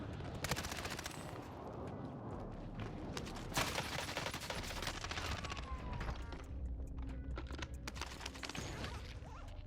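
Rapid SMG bursts from the video game Warzone crackle as dense clusters of sharp shots, mixed with quick keyboard clicks and other game sounds, with no talking.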